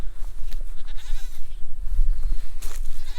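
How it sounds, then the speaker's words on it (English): Goats bleat a few times close by over a rumbling, windy outdoor background on a farm near a pond. "What's up, goaty goats?"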